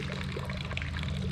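Chlorinated water poured from a chlorine floater into a swimming pool while it is closed for winter, heard as a steady close splashing trickle over a low hum.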